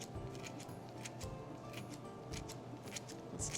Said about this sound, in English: Now let's trim our cilantro with our scissors.